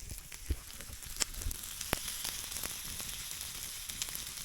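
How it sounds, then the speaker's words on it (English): Steak and vegetables sizzling while reheating over a campfire at a motorcycle hammock camp in the Colorado mountains, a soft continuous crackling hiss with scattered pops and snaps from the fire. "I'm just heating the veggies back up with the steak, and got the fire back going for the moment"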